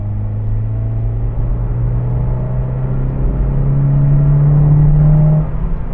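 A Honda CR-Z engine drones steadily and then climbs in pitch as it revs past 4000-4500 rpm, a rough, throaty hum that drops off abruptly near the end.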